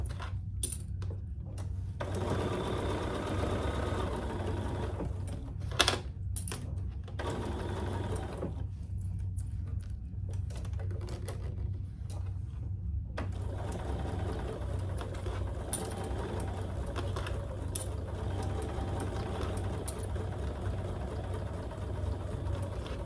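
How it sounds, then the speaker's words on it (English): Sewing machine stitching a tote bag seam at a quarter-inch allowance hums steadily at moderate volume throughout, with a few brief clicks and pauses in speed, no voices. "we're gonna sew that together at the seam allowance in the pattern, which is 1/4 inch"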